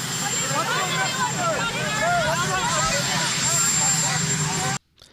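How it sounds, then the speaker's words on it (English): Steady helicopter rotor and engine roar fills the background under a man's speech outside the White House, then cuts off abruptly near the end. "You could hear the helicopter noise in the background."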